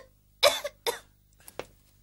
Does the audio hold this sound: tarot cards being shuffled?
no